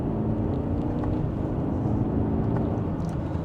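A 2025 BMW X4 xDrive30i accelerating in sport mode from third gear, heard from inside as a steady, loud low engine drone with road rumble, no talking.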